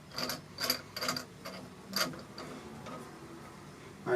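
A ratchet clicks in short bursts as a crank pulley puller is tightened on an LS engine, a few quiet rapid ratcheting sequences up close, then a pause and a single sharp click at the end.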